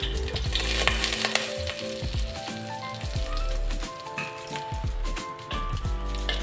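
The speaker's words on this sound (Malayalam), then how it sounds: "ഇനി ഇതിലേക്ക് കുറച്ച് കാഷ്യൂനട്ടും ഉണക്കമുന്തിരിയും വറുത്ത് കോരാം." Cashews and raisins frying in ghee in a pan, with a dense, crackling sizzle and occasional stirring taps, close and steady throughout with no talking.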